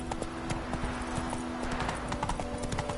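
Horse hooves clip-clop at a steady walking rhythm in Witcher 3 while a low voice speaks briefly over them.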